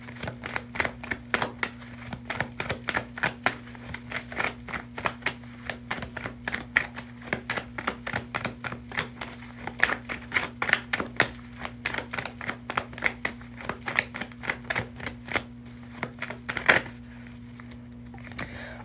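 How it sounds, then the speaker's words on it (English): Rapid, steady riffling of tarot cards shuffled up close, many quick dry flicks in long bursts, with a faint hum underneath. "I can shuffle these cards today."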